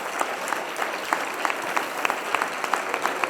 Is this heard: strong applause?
yes